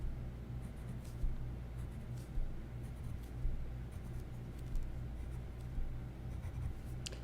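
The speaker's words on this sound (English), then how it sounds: "I'm going to draw several dashed lines." Pen or pencil drawing several dashed lines on a sewing pattern around the neckline and armhole: a steady series of short, close scratchy strokes, soft and near, with no talk.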